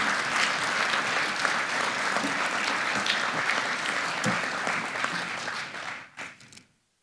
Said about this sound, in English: give yourself a round of applause for the efforts that you put forth